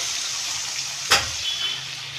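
Mixed vegetables frying in oil with cornflour slurry for a Chinese-style dish, a steady close hiss and sizzle with one sharp spatula scrape partway through, no speech.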